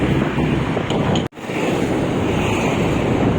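Strong rushing floodwater of the Marikina River beside a damaged river wall and broken road, a loud continuous roar with a brief dropout before the torrent resumes.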